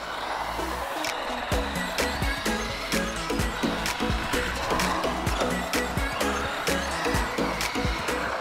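A WLtoys 10428-C2 RC car drifting outdoors, its electric motor whining and surging in rapid bursts over a steady rushing background, with frequent sharp clicks and knocks from the chassis and tyres.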